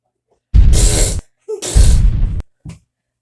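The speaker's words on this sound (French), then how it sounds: "Je vais mettre un pet." A fart sound effect added as a comic gag, made of two loud, raspy bursts of about half a second each and a short third puff after them, with no talk over it.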